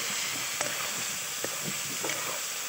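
Shrimp and small fish sizzle steadily in a pan by a river in the Sundarbans, with a soft, continuous frying hiss and a few faint stirring clicks, close and alone without talk.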